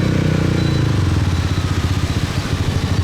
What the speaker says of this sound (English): This is when a loud exhaust comes into good play.